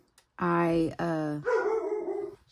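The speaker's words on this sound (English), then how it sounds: "Sorry, my dogs." Pet dogs indoors let out a couple of loud drawn-out howling barks, then a lower whining bark, close by with no talk.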